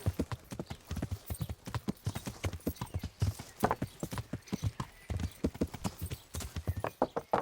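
Rapid, rhythmic clip-clop of horse hooves in the video game Kingdom Come: Deliverance at a brisk pace, close and steady throughout, with a brief whinny.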